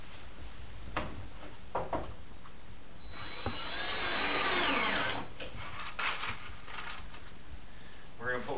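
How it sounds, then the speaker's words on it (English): Power drill driving pocket screws into the galley framing of a teardrop camper, a short whirring burst of a few seconds standing out from quieter shuffling and handling noises, with a brief voice nearby. "take some pocket screws and leave that and screw that in the corners and across the top and a few at the bottom"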